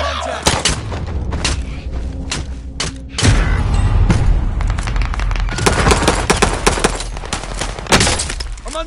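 Video game gunfire, a dense mix of sharp shots and heavier booming impacts in irregular clusters, loud and close, with a brief lull before a sustained barrage.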